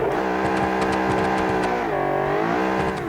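Engine of a 944 Turbo S driving on a race track in the car-design game Automation, a steady high-revving drone with layered harmonics that dips briefly as it shifts, loud and continuous throughout.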